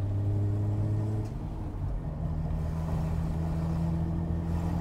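A vintage 150 hp car engine revs at a drift event, its deep harmonic rumble rising and holding steady, loud and close throughout with no talk.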